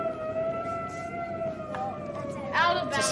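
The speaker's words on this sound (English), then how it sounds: "It's a siren." A siren, said not to belong to an ambulance, fire engine or police car, heard in a children's street-scene show: a steady wailing tone with a slowly falling pitch that continues throughout, with a brief voice-like sound near the end.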